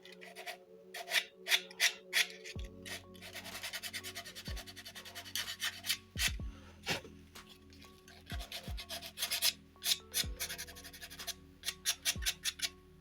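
Rhythmic rasping strokes of sandpaper on a wooden boat hull, repeated in short bursts with brief pauses, close up and fairly quiet.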